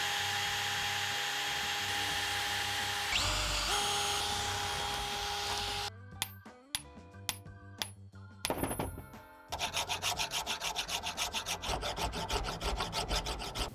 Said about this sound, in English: I could probably use a file to take out the worst dents and stuff.